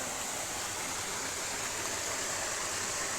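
A mountain stream at San Sebastian rushes near a waterfall. Its steady, loud, unbroken flowing water fills the whole clip, close by, with no voices.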